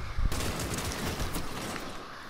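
Rapid automatic gunfire from the Destiny shooter game rattles on loudly and continuously for a couple of seconds, with no voices over it.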